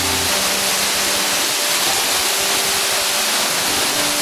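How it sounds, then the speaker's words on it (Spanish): Iron-rich water plunging down a waterfall at the bottom of a ravine, a steady, loud, close broadband roar that holds without a break for the whole stretch. "esta es la cascada de agua ferrosa"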